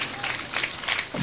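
Hands of a church congregation clap during a Telugu sermon, a crowd applause that swells and dips in uneven waves. A faint murmur of voices runs beneath it.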